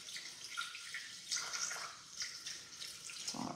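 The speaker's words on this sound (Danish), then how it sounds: "Så det skal lige veje 200 gram vand her." Water pouring into a Thermomix mixing bowl while 200 grams is weighed out, a fairly quiet splashing trickle with small bursts and swells, heard alone without talk.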